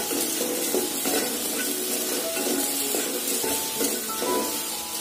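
Sliced okra being stirred and dry-fried in a hot pan without oil, sizzling and hissing continuously while the spoon scrapes and clatters against the pan in an uneven rhythm, close up.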